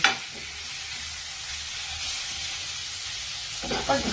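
Eggplant frying in a pan with coconut, sugar and green chili makes a loud, steady hiss and sizzle, with brief stirring clatters at the start and end.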